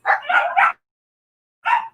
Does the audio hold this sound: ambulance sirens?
no